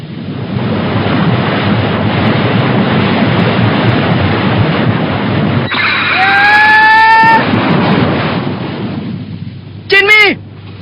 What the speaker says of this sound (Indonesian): kita harus menyambut kedatangan ombak itu